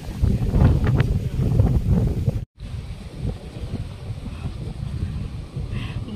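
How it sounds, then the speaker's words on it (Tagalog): Strong wind at a hilltop viewdeck in Pililia buffets the microphone with heavy low rumbling gusts, briefly cutting out, then resuming as steady roaring wind noise. "malakas ang hangin dito dahil nasa tuktok na nga tayo nito"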